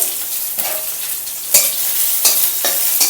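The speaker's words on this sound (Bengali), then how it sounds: "রসুনটা একটু লাল লাল করে ভাজা হয়ে যাবে" Garlic sizzles in hot oil as a spoon stirs and scrapes the pan several times, crackling steadily close by.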